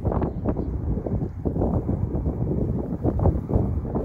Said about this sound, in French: le vent ne nous fait aucun cadeau à l'approche de la montée vers le cap Grinet